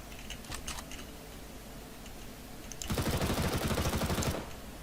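A rapid, even-paced burst of automatic gunfire in a Counter-Strike: Global Offensive competitive match on Cache, loud and close for about a second and a half, after quieter scattered clicks and faint distant shots.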